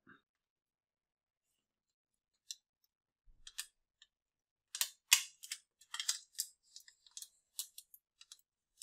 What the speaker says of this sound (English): And then slowly peel back your transfer tape.